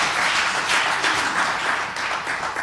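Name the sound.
congregation applause during sermon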